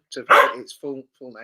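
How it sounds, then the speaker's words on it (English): A pet dog barks a few times nearby in a home, eager to play, with a loud burst followed by shorter yips amid a man's speech. "It's my dog that's decided that she wants to play."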